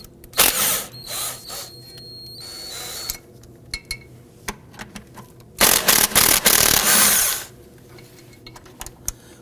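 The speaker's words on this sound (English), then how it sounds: "We're going to use a 12mm socket to loosen and remove both of these bolts." Bursts of ratcheting and power-tool whirring as a 12mm socket loosens and removes strut bolts on the inner wheel well of a 2005-2009 Subaru Legacy 2.5L, in short irregular spurts with a longer loud run near the end.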